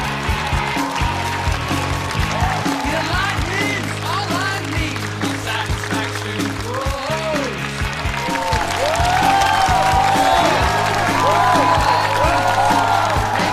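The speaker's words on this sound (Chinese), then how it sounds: "掌声欢迎一下" Audience applause at a Chinese roast comedy show, sustained clapping from a studio crowd under steady music, growing slightly louder toward the end.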